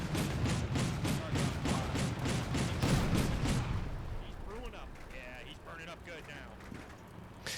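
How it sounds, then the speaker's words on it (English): Military vehicles firing on buildings in the war game Combat Mission Shock Force, a rapid run of regular heavy bursts for several seconds, then fading into scattered distant rumbles with faint voices underneath. "The vehicles at the ends of the roads begin to fire at buildings that they can see"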